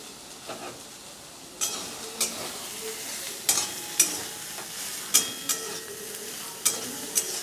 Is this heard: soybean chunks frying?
yes